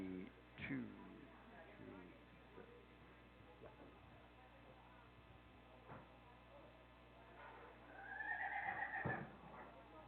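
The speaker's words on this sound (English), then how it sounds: "4-month-old filly colt." A four-month-old filly neighs at a livestock auction, a faint whinny near the end over low room hum and scattered auction noise.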